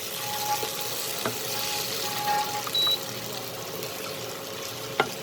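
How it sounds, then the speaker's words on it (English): Fried okra (lady's finger) sautéing in masala in a pan, a soft steady sizzle with a few clinks of a utensil against the pan, close and moderately loud. "Here, the fried lady's finger I have added, and I will saute it."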